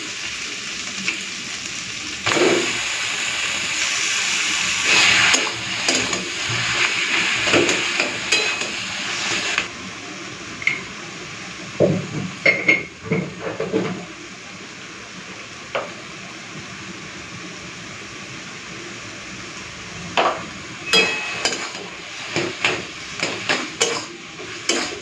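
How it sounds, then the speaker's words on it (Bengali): Boiled taro leaves go into a pan of frying prawns and onions, bringing a steady sizzle at first, then quieter frying broken by scattered clinks and scrapes of a spatula against the pan. "এখন দিয়ে দিচ্ছি কচু শাক।"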